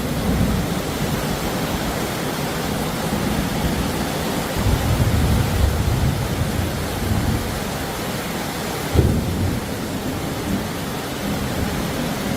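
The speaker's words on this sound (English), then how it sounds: "There's a whole line of storms coming right at us." A thunderstorm rolls in as a line of storms approaches, with dense, steady rain hiss and low rumbling throughout, plus a single brief thump near the end.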